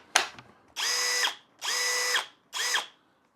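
Cheap brushless drill driver whirring up in three short bursts, each a steady motor whine that spins up and winds down, preceded by a click, close and clear with no talk.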